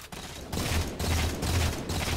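Gunfire from the Halo 4 video game in a free-for-all match on the Abandon map, heard as steady bursts of rapid automatic shots with brief pauses between volleys, loud and close throughout.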